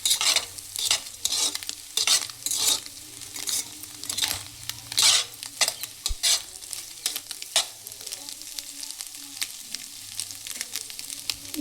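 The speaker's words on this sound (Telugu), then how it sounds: "6 గుడ్లు తీసుకొని ఇలా కొద్దిగా సాల్ట్ వేసుకొని ఫ్రై చేసుకుంటున్నాను" Six eggs with a little salt sizzling and frying in a pan while being stirred, with repeated scraping and stirring strokes over a steady low sizzle, fairly quiet.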